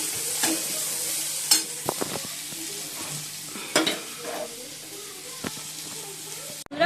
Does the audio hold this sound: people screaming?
no